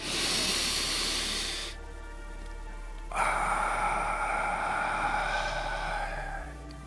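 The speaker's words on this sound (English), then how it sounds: "Nice deep breath in through the nose." A person draws two long, audible breaths through the nose during a calm morning breathing session, each a soft, close airy hiss separated by a short pause.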